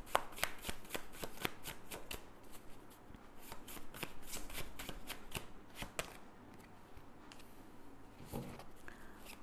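A deck of tarot cards is shuffled in quick, crisp riffling snaps, close but soft, with the rhythm loosening and thinning toward the end.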